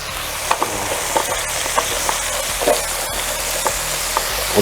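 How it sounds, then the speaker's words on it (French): Squid with onions, shallots and garlic simmering in a pan on a rocket stove, giving a steady, loud crackling sizzle with a few light clinks, close up and without talk. "Vous pouvez voir, ça mijote"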